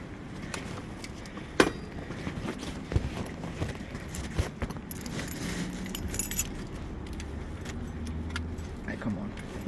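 Keys jangle in a short, bright burst that stands out over a steady rumble of passing road traffic, with muffled voices talking nearby.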